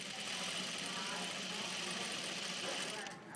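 A sewing machine stitches stretchy knit fabric in a steady, continuous whirring hum with a fast mechanical chatter, close by, until it eases off near the end.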